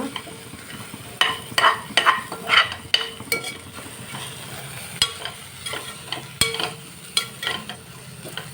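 Beans stirred with a spoon in a hot frying pan, sharp irregular scrapes and clinks over a soft steady sizzle of oil, close and fairly loud.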